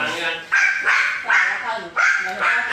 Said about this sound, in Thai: เห่าทำไมล่ะ